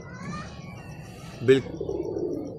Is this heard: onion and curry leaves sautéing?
no